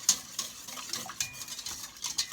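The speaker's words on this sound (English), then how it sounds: "I am using a whisk because it will break down the lumps in it better" A whisk beating milk into a vegan quiche batter in a bowl, a close, soft, steady swishing with a few light clinks against the bowl, heard alone.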